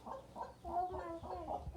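Chickens kept alongside farmed ducks cluck in a run of short, nasal calls at close range, a few rhythmic bursts over a quiet background, with no one speaking.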